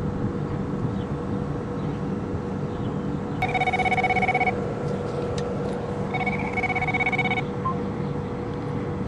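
Two bursts of an outgoing telephone ringback tone, a steady electronic purr heard over loud machinery hum at a grain elevator building, each lasting about a second, no talk.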